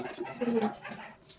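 Pet dogs in a home bark and whine a few times at low volume in the background, short yelps clustered near the middle, while a person talks quietly over them.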